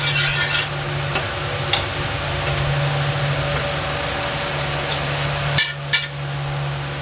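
Marinated pork frying in a pan for adobo, a loud continuous sizzle close by with a few sharp clicks and knocks near the end, no voices.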